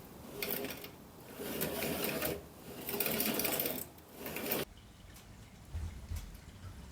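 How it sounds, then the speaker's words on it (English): A belt drive running over gears and pulleys moves a motorized, height-adjustable laser bed, giving a soft mechanical whir in several bursts that stop abruptly partway through, followed by quieter background. "I then ran the belt on all gears and pulleys to simulate the drive and test if the bed moves up and down freely"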